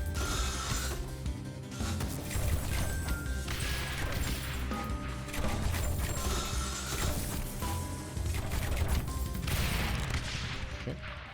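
Mortar fire in the tower-defense game Rogue Tower: dense, continuous mechanical clattering and thudding impacts layered over game music, loud and steady throughout without speech.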